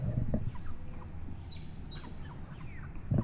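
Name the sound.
chickens clucking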